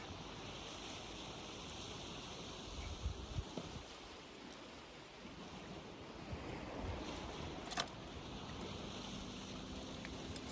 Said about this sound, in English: It's nice hearing the sound of them waves, isn't it?